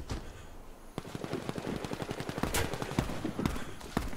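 Rapid automatic gunfire in the online shooter Warface, dense bursts of shots crackling continuously near and loud, with sharper individual reports standing out through the four seconds.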